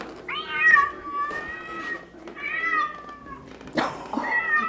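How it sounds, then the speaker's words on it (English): A cat meows repeatedly, three or four drawn-out, wavering cries close by, with brief pauses between them. "Why is there a kitty in there?"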